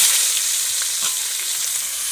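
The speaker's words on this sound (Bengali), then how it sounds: "পেঁয়াজটা ভালো করে ভেজে নিচ্ছি।" Onions fry in hot oil with whole cardamom, cloves and cinnamon for a Bengali jackfruit-and-prawn curry, giving a steady, close sizzling hiss with faint crackles and no talk.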